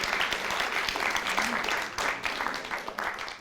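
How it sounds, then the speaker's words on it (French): Audience in a theatre setting clapping warmly, a dense patter of many hands at moderate volume, steady for a few seconds with a faint voice beneath. "je pense qu'on peut l'applaudir, Suzy Falk"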